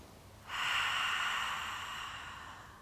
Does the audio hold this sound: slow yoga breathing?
yes